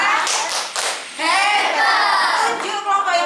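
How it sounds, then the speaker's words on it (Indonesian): Hand clapping from a primary school classroom of young pupils, a burst of applause swelling after a brief pause and continuing steadily, close and fairly loud, with children's voices mixed in. "Give applause dulu buat Bapak ini. Beri tepuk hebat."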